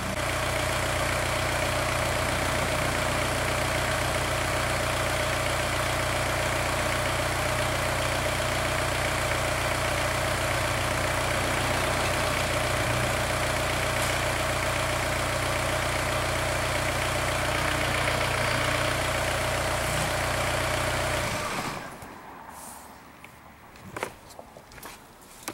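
A 2003 Volkswagen TDI with the ALH diesel engine, showing a P0299 fault, idles with a steady, loud low rumble and vibration for about twenty seconds before shutting off into near silence with a few faint knocks.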